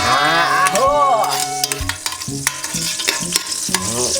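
Garlic sautéing in a hot pan, with a steady close sizzle broken by scraping stir strokes and a few squeaky tonal scrapes early on, and no talk.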